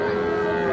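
A Sahiwal bull calf moos at a village cattle market, one steady, close, fairly loud bellow held throughout.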